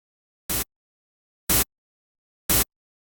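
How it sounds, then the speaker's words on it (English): Analog drum-machine style synth snare built on a noise oscillator, struck three times at an even one-second pace, each hit short, bright and hissy, heard alone with silence between. "more like we're going for like just the synth analog drum machine kind of snare sound."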